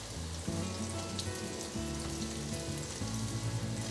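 Vegan patties sizzle in hot oil in a pan, a continuous crackling fry close by with a low background hum and no talking.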